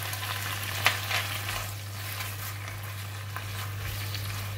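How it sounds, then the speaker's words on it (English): Kailan and salted fish stir-frying in a hot pan, a steady dense sizzle with a few sharper scrapes and clatters of stirring, close and continuous with no voices; a low constant hum runs underneath. "Continue to stir fry until the vegetable is cooked"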